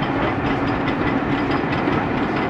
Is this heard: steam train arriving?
yes